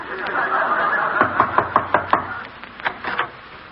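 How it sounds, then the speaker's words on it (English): A series of quick knocks on a door in an old comedy scene, roughly six sharp raps in an even rhythm followed by a few more, loud and close with no talking over them. "I'll knock."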